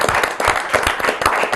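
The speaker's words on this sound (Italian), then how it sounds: "Facciamo un applauso a Stefano." Audience at a martial arts event applauds Stefano, a European and Italian judo champion, with a brisk burst of close, rhythmic hand clapping that holds steady throughout.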